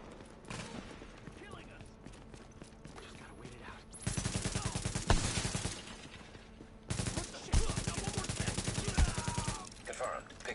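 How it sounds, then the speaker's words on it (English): Turret gunfire in a video game: two long, loud bursts of rapid automatic fire separated by a quieter lull, with fainter ambient game noise between them. "And he has a fucking turret."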